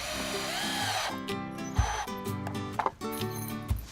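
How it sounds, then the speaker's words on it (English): A power drill driving basic wood screws into a scrap pallet-wood cold frame outdoors, with several bursts of loud whirring and pauses between them, close and alone without talk. "And all I need to do is screw these together, and it'll hold the whole frame as one."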